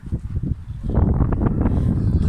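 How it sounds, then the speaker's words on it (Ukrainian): Wind gusts roar low and steady against the microphone, swelling slightly louder midway and staying rough and continuous. "Вітер."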